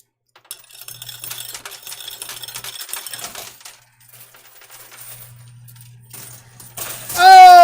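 Coins clatter and tumble in a high-stakes coin pusher machine, a rapid metallic cascade followed by scattered clinks and a low mechanical hum, ending in a sudden rising electronic jingle.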